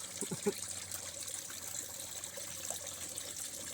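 Water trickles and splashes softly and continuously as a small backyard waterfall spills into a pond, faint and steady with a few brief droplet sounds.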